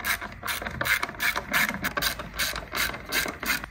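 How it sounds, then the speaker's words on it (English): Ratchet wrench with a 10mm hex socket undoing the bolts on a car battery bracket, giving rapid repeated clicking bursts in a steady back-and-forth rhythm, close and clear with no talking. "use a 10mm hex socket, undo the bolts on the bracket"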